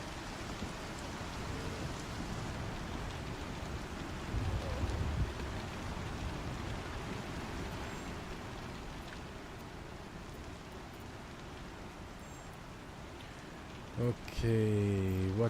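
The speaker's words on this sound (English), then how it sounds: "Is it raining inside the building?" Steady rain falls indoors inside a building in the video game Star Citizen, a dense, even hiss of drops that keeps going throughout, with a brief louder rumble near the end.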